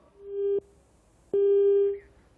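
Telephone disconnect tone during a live call, two steady electronic beeps, the second longer, clear and alone against a quiet background.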